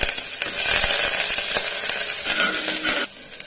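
Onion, dried red chili and curry leaves hit hot oil after popped mustard seeds, giving a loud, crackling sizzle with stirring clatter, dropping sharply quieter near the end.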